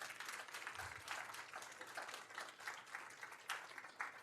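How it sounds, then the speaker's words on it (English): Modest applause rises from the attendees of a school district board meeting, a thin, steady patter of claps from a smallish room, fairly quiet and continuous. "She's not here tonight, but we do want to give her a round of applause."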